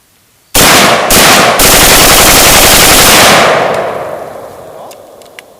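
An AKS-74U rifle is bump fired from the shoulder, giving a few separate loud, close shots that break into a long rapid burst before fading out, then a couple of faint clicks.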